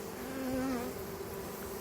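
A honey bee swarm drones in a thick, constant buzz close by, with bees fanning their Nasonov glands to call the rest, and the hum swelling slightly midway.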